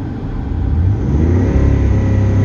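Dodge Nitro with a 4.0 engine and a suspect throttle position sensor, running loud and close with a steady revving drone that holds high instead of dropping back to idle.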